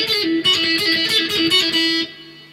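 Electric guitar picks the intro riff, a quick single-note line that rings out clearly and alone for a couple of seconds before the last note sustains.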